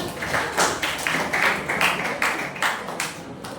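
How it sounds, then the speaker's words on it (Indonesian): Students in a classroom clap their hands together in a quick, steady rhythm of sharp, closely spaced claps that continue evenly throughout. "Oke, tepuk tangan."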